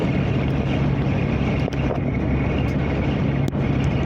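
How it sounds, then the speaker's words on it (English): Steady wind roars and buffets against a vehicle, a dense low rumble with a couple of brief knocks, no talking. "It's a little windy out, man. It's actually pushing my vehicle."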